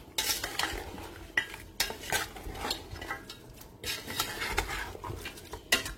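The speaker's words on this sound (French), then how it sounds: "Donc là, on va bien mélanger. Je mélange bien." A spoon scrapes and clinks in a pot of meat cooked with gombo (okra) powder, a run of rhythmic stirring strokes and clatter against the metal over a faint sizzle, close and fairly quiet.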